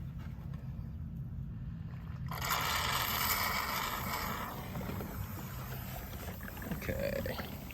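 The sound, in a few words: sucking drained generator oil out of a Tupperware container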